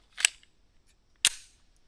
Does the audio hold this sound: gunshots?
yes